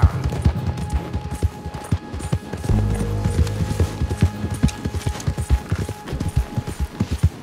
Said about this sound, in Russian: поехали, моя верная лошадь